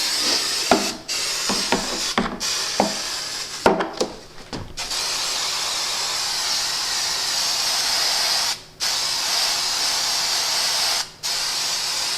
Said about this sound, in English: Now I'm going to go over to the bag, spray the inside of the bag.